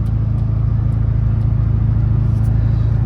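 A truck engine on a 150 horsepower tune accelerates with a loud, steady low rumble and a continuous engine drone heard from inside the cab, with no talk over it.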